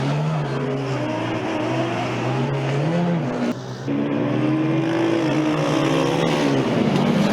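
A Formula Student race car runs the endurance track, its engine note climbing and falling through gear changes with a brief dip as it lifts, loud and continuous from nearby.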